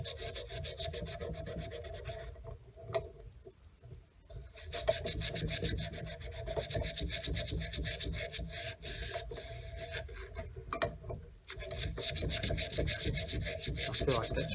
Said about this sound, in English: I'm working the sandpaper in the opposite direction, polishing that corrosion off of there